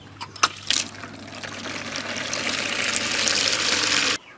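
Tap water runs steadily into a 10-litre bucket beneath a drip irrigation line for a home terrace garden. The flow sounds close and continuous, with a few splashy bursts at the start before it settles into a rising, hissing pour that cuts off abruptly.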